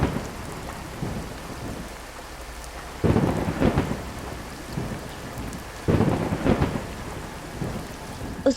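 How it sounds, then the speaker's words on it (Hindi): Storm ambience with steady rain on surfaces and two loud rolls of thunder, the first about three seconds in and the second near the six-second mark. "तेज हवाएं चलने लगती हैं, जैसे कि कोई तूफान आ गया हो।"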